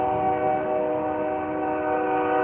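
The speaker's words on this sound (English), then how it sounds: "that's a proper train horn over a crossing." A loud, sustained train horn blares continuously at a crossing with a steady chord, close by and uninterrupted.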